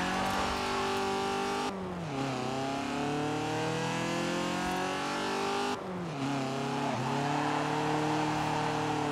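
A stock 1980 Fiat 124 Sport Spider drifting in Forza Horizon 4 revs hard and steadily, its engine note dropping twice at gear shifts before climbing again, with tire squeal mixed in throughout.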